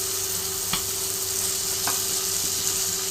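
Green chillies frying in a pan, giving a steady loud sizzle with a couple of faint clicks over it and no speech.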